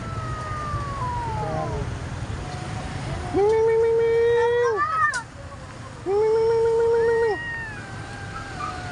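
A kitten gives two long, loud, plaintive meows close by, with a few fainter cries between them over a low background hum.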